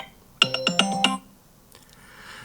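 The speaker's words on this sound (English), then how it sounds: "we can select any sound to set it as a ringtone" An iPhone ringtone plays a quick run of five bright electronic chime notes in rhythm, clear and close, then stops and leaves a faint quiet tail.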